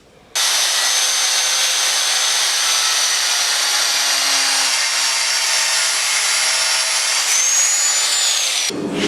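A forged steel crowbar being ground down to a single-bevel chisel point, a loud, steady high-pitched grinding hiss that runs continuously for about eight seconds before cutting off abruptly.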